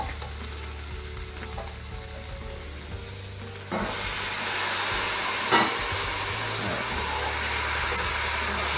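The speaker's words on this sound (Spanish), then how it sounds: "vamos a desglasear, vamos a levantar el glacé que se formó en el fondo y lo vamos a hacer con agua hirviendo en esta oportunidad" Hot goulash pan deglazed with boiling water, a steady loud sizzle and hiss that surges louder partway through as more water hits the hot fond, with no talking.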